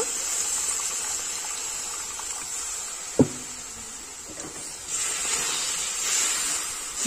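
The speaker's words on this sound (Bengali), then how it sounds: "অল্প জল দিয়ে দেব।" Water poured into a pan of semolina already roasted with milk, a steady close hiss with one sharp knock partway through.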